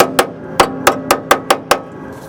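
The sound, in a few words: hammer hitting steel on a 1964 Ford F100 lower cowl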